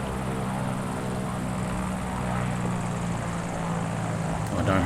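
A freeware propeller aircraft called the Scrapyard Monster drones steadily in Microsoft Flight Simulator, its engine hum loud and constant throughout with a slight swell at the very end.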